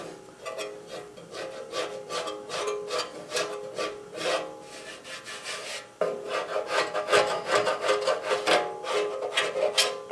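A body panel with putty-filled low spots is shaped by hand, giving rhythmic rasping strokes in two bursts separated by a short pause, close and fairly loud with no speech.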